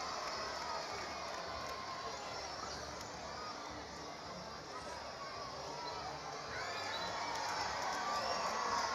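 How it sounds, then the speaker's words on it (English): Baseball crowd at Toyota Field in Madison during an Auburn Tigers vs. North Alabama Lions game keeps up a steady roar of cheering and shouting, with a broadcaster talking over it. "the crowd's still in it here at Toyota Field in Madison"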